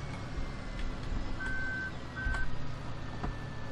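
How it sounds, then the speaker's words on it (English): A vehicle in Farming Simulator 2013 sounds its reversing alarm, a couple of faint steady beeps over a rumbling engine drone. "That's really way too much, that continuous backup noise from this thing"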